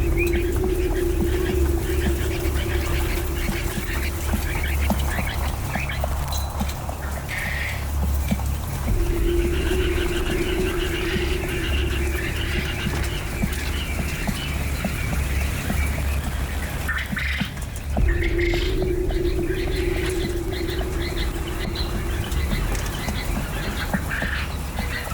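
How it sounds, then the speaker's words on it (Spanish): Thousands of quails on a farm in Juneda, Lleida, make a steady dense din of calls and chirps, with recurring louder bursts of cackling over a constant low hum of the shed. "podemos ver algo inédito: la vida de miles de codornices en una granja."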